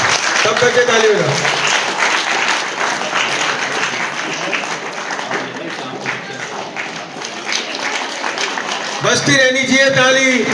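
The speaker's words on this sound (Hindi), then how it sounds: "सब बच्चे ताली बजाओ।" A hall of students at an Aakash coaching seminar in Wazirpur applauds in a sustained, busy patter of many hands, with a voice speaking over the clapping at the start and end.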